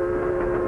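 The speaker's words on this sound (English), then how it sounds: "Do you ever notice when you're riding along on a train this way" A train rolls along in the steady, continuous rumble of a passenger car in motion, with a sustained low hum and no break, heard alone without talk.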